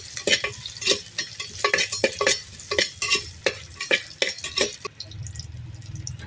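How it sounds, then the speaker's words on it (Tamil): Curry leaves and four green chillies stirred in hot oil with fennel for chicken kuzhambu, a loud crackling sizzle punctuated by rapid rhythmic spatula scrapes, then settling into a softer hiss. "கருவேப்பிலை போட்டுக்கலாம். 4 பச்சை மிளகா போட்டிருக்கேன். கிண்டிக்கலாம்."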